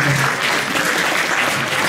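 An audience at a volleyball club event applauds the opposing player, a dense steady roar of many hands clapping, loud and sustained across the whole moment, with no voices standing out.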